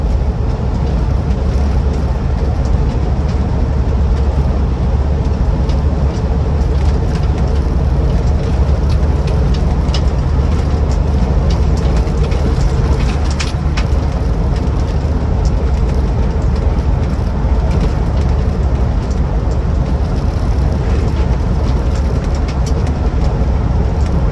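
Land Rover Defender 90 TD5 soft top diesel engine running while driving, a constant loud low rumble with road and cabin noise throughout and no talking.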